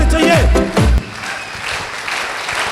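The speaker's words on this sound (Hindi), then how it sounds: "खड़ा होकर दमदार ताली होनी चाहिए" An audience gives a standing ovation at a motivational business event, loud applause and cheering that peaks early, then settles into sustained, slightly quieter clapping.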